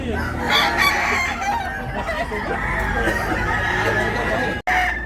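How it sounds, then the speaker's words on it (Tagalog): Many chickens and roosters at a crowded poultry market in Tabunok, Talisay, Cebu, with roosters crowing repeatedly and hens clucking over a constant din of birds, and voices talking nearby. "Pero ang daming manok mga idol."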